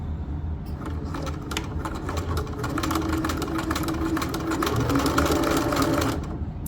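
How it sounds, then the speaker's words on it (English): A sewing machine backstitches the end of a seam on a fabric project bag, giving a continuous, close, rapid mechanical whirring and clatter that holds steady for several seconds. "And now I'm going to backstitch."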